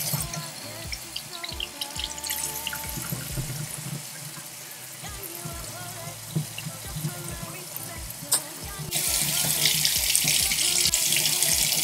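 Makeup brushes washed with soap under a running tap, with steady splashing water throughout that swells louder near the end; no talking.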